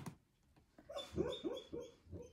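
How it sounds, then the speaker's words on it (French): A sleeping dog whimpers while dreaming, giving several soft, high, breathy yips and whines in a short cluster, close by and faint, with no talking. "il y a mon chien qui rêve, hein, vous inquiétez pas, je ne suis pas en train de le martyriser"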